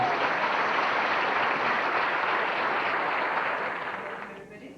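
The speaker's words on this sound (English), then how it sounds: "Go and give her a round of applause, please." Wedding reception guests applaud the co-MC in a loud, dense, sustained round of clapping that tapers off near the end.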